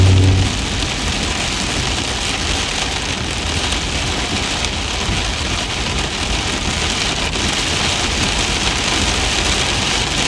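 Heavy rain pounds steadily on a storm chaser's car in a Kansas thunderstorm near Manhattan, a loud, continuous hiss of drops with no break and no talking.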